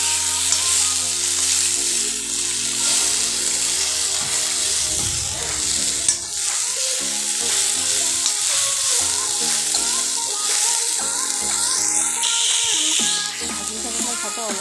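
Ingredients for a dangbodi (red ant egg) chutney fry in a little oil, a steady close sizzle with stirring running throughout, under continuous background music or voice and a few sharper clinks.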